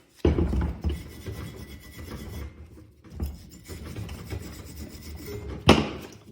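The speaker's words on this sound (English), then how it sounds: "you can sort of scrape it off a little bit wherever the brush doesn't get into" A brush rasps against caked dirt on Lexus RX front brake parts, a steady scratchy scrubbing that keeps going, dips briefly, then picks up again and ends in a sharper scrape near the close.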